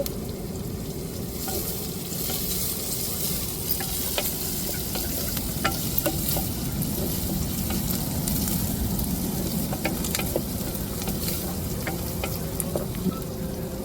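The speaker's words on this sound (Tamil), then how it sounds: "இப்போ கருவேப்பிலை சேர்த்துக்கிறோம் வெங்காயம் நல்லா வதங்கி வந்துருச்சு" Onions and curry leaves frying in oil for a pepper quail fry, giving a loud, continuous close-up sizzle and crackle with light stirring scrapes, and no voices over it.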